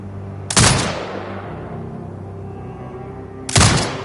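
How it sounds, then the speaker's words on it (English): Two heavy turret shots in a video game, each a sharp loud blast about three seconds apart, followed by a long fading rumble and a low mechanical hum between them. "Exit binocular mode and command the turret to fire."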